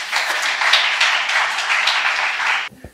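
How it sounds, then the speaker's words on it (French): Audience applause at the televised season finale of Voix des Jeunes in Côte d'Ivoire, a steady, dense wash of clapping that holds for nearly three seconds and then stops abruptly. "Nous les applaudissons très fort"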